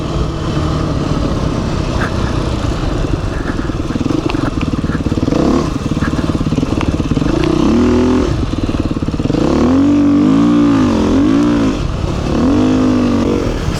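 Beta 390 and CRF 450 dirt bikes riding through the Flinders Ranges, with steady loud engine drone and repeated rising and falling revs as the riders shift and accelerate, continuous throughout.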